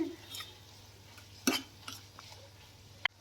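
A spoon scraping and clinking faintly in a pan while potato and green bean curry is stirred, soft intermittent taps and scrapes over a low steady hum, with one sharper knock near the end.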